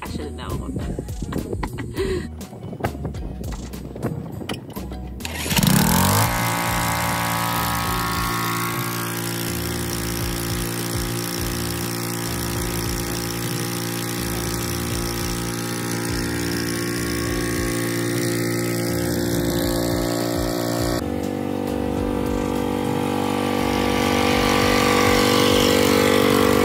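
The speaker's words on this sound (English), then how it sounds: "the lawnmower went out on me" A lawn mower engine runs steadily and continuously, loud and close, after a burst of rattling clatter at the start.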